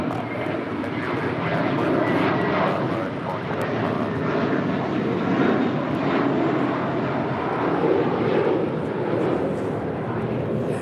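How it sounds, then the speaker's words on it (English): American Airlines Airbus A321 departing LAX, a loud, continuous jet engine roar with steady rumbling texture throughout, heard alongside people talking. "612 departing to Orlando on an A321"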